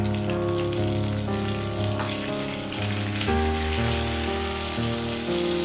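Whole cumin seeds, cardamom, cloves, cinnamon, dried chilli and bay leaf frying in hot oil for a Bengali prawn and pointed gourd curry, a steady soft sizzle with light crackles, close by and alone.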